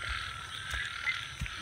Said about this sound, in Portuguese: Ai, foi o gogó do sapo.